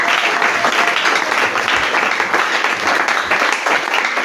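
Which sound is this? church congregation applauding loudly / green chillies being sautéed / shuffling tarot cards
church congregation applauding loudly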